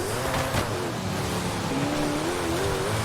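Koenigsegg Jesko hypercar driven in a racing video game, a constant roaring engine and road noise with a rising whine, loud and steady throughout.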